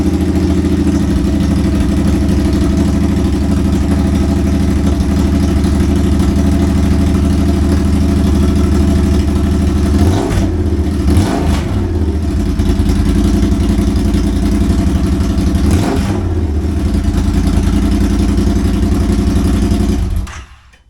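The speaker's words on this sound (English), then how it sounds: "So literally just a turn on and hear the sound of the bike." Triumph bobber motorcycle with its stock exhaust starts from cold and idles steadily and loud, a deep continuous rumble with a couple of brief throttle blips around the middle before it cuts off at the end.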